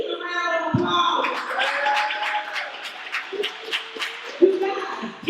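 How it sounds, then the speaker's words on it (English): Audience at a Juneteenth celebration breaks into scattered, moderately loud clapping that thins out over a few seconds, with voices talking over it. "Can we get a round of applause?"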